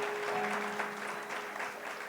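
A church congregation claps for the Lord during a Hindi sermon, a dense, steady wash of applause filling the hall throughout.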